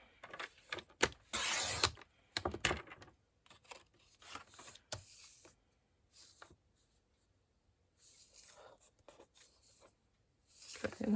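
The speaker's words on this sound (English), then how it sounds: "Cut it in half." A blade saws through a cabinet card to cut it in half, making quiet, dry scraping strokes. The rasps come in short bursts separated by brief pauses.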